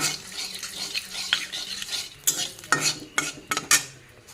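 Dried red chillies dropped into hot oil in a pan, with a soft sizzle under a series of close metallic scrapes and clanks of a utensil against the pan, growing busier toward the end, with no talking.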